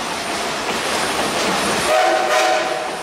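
A steam locomotive whistle, Frisco No. 76 in the Ozarks, sounds with a sustained tone over a rushing rail rumble, a single short blast heard at moderate distance.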